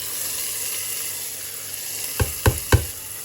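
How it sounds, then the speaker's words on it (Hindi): Hot oil sizzles steadily in a pan as a tadka is tempered, then three sharp crackling bursts pop in quick succession, close up. "पकोड़े बन रहे हैं और ये तड़का"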